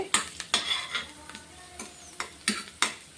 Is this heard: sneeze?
no